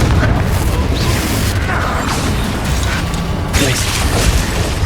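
Confringo blasting-spell explosions in Hogwarts Legacy, dense booming bursts and crackling impacts layered over continuous loud combat noise for several seconds, with a voice briefly shouting.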